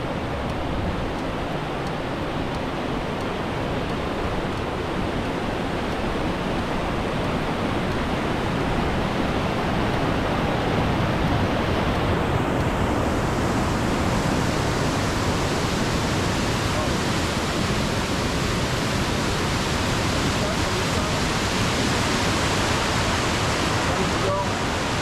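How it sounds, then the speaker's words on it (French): Broad, steady roar of a large waterfall rising from directly below a footbridge on a Norwegian hiking trail, a continuous dense rush of falling water filling the whole stretch with no pauses. "on est juste au-dessus d'une super cascade"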